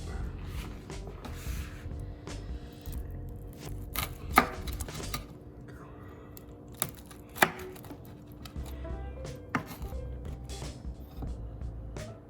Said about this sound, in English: Let's cut the pepperoni and Wagyu beef pizza.